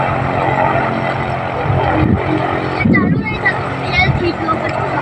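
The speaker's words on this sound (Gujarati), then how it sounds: "જો આ બીજું એન્જિન ચાલુ કરે." A second propeller engine on an aircraft turns over and runs up, a loud, steady drone with a low rumble and a rising surge near the middle, while people talk over it.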